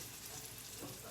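A meat patty fries in hot oil on a home stovetop, giving a steady, close, loud sizzle with crackling spatter that runs unbroken from start to end, with no talk over it.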